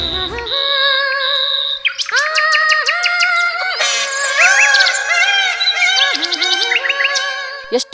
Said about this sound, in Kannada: ಹಕ್ಕಿಗಳ ಚಿಲ್ಪಿಲಿಗಳಿದೆ